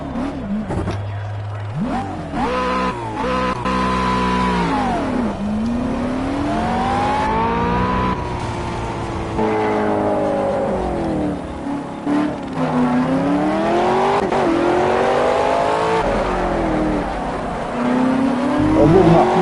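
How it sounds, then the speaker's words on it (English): Race car engine in the Project Cars video game on PS5, revving loud and close, climbing and falling through repeated gear changes over about twenty seconds with occasional tire squeal and no talk. "I think this engine will be too loud for you to hear me"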